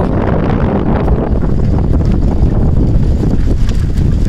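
Strong, steady wind buffets the microphone as it blows across a tea garden near Shankar Tila in Sreemangal during a storm, a loud, unbroken roar with gusty surges and no talking.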